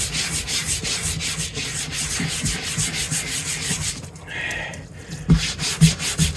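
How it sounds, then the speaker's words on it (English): Scrub brush scrubbing a surface, giving continuous rhythmic rough rubbing strokes, close and fairly loud, with a short change in texture near the end. "we're going to get the old scrub brush out and see if it removes anything"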